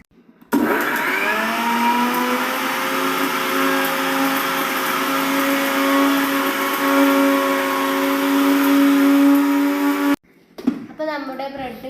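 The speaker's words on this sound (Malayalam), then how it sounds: "ഇത് നമ്മളൊന്ന് മിക്സിയിൽ പൊടിച്ചെടുക്കുകയാണ്." A mixer grinder grinding slices of bread into crumbs runs loud and steady for about ten seconds, its motor whine holding constant before switching off abruptly, followed by a brief rattle and a voice.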